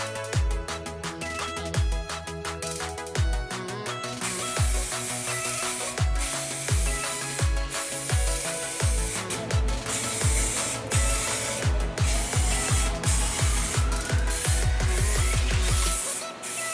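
Primer being spray-painted onto a truck's grille and fender flares, a steady hiss running throughout with rapid repeated rattling clicks from the can's mixing ball or trigger, close and loud, no talking.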